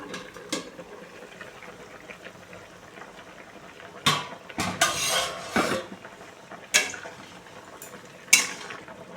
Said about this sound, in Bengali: ঢাকনাটা তুলে দেখব আলু আর সজনের ডাটা সেদ্ধ হয়েছে কিনা